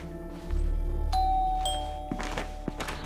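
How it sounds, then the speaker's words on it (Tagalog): A two-tone doorbell chime rings once, clear and close, followed by a couple of soft thumps and shuffling footsteps. "Doorbell tayo."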